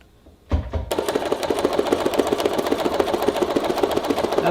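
A regular sewing machine running machine embroidery starts up after a brief bump and then stitches at a steady rapid rhythmic chatter, close and fairly loud.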